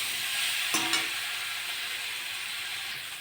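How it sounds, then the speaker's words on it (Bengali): A large chopped tomato sizzles steadily in hot oil in a pan while being sautéed down for a tilapia curry with potato and papaya, a continuous close frying hiss with a couple of brief louder crackles near the start. "বড় একটা টমেটো এটা দিয়ে দেবো, কেটে রেখেছি। ভালো করে কষে নেব।"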